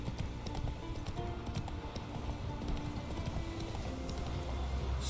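A horse gallops in The Witcher 3: Wild Hunt, a quick steady clip-clop of hooves running continuously at moderate level with faint ambient game sound underneath.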